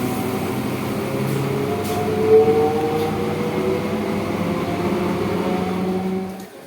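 The interior of a moving passenger train gives a steady low rumble and hum with faint tonal whines, a continuous mid-level drone heard alone without talk, fading out at the end.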